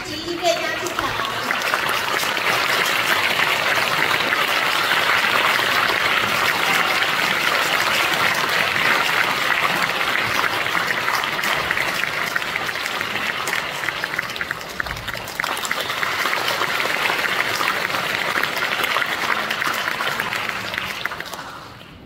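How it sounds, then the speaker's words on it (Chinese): An audience claps warmly to welcome a doctor and musicians onto the stage at a string quartet concert, dense sustained applause filling the hall for about twenty seconds. "让我们再度用热烈的掌声欢迎郑医师及音乐家进场。"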